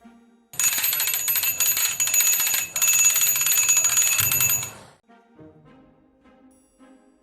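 A flood early-warning alarm, triggered by a float rising with the water level, rings loudly in a continuous, shrill electronic bell tone for about four seconds before falling quiet.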